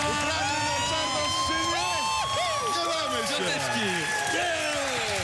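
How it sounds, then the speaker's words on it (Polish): A studio audience at the Polish game show Awantura o kasę applauds and cheers, a loud, dense and continuous crowd roar with scattered whoops and shouts running throughout. "to były brawa za refleks"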